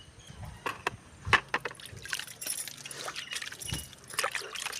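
Water poured from a container onto a newly potted plant's fresh potting mix in a garden, close irregular splashes and trickling with a few light knocks.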